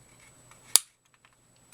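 A single sharp plastic click from the joint of a 1/100 Real Type Zaku II model kit, one crisp snap with a brief tail amid quiet room noise.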